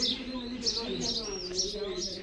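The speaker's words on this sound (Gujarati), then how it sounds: "અને જો સીતાફળીમાં ચકલિયું બોલે" Sparrows chirp in a custard apple tree at a rural farm, a string of short, bright high-pitched chirps repeating every half second or so over a steady low hum.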